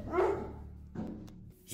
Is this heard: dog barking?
yes